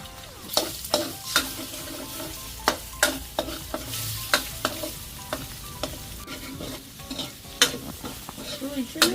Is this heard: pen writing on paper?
no